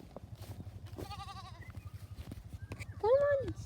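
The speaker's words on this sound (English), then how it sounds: "Sheep have invaded my camera." Sheep bleat on a farm: a nasal call early on and a louder, close bleat near the end, over a steady rhythmic background of shuffling and wind.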